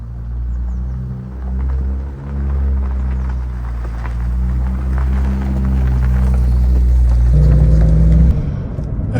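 A 1998 BMW Z3 M Roadster with just under 23,000 miles on the clock drives along, its engine rumbling loud and close, the revs rising and falling through gear changes, then climbing in a stronger pull near the end.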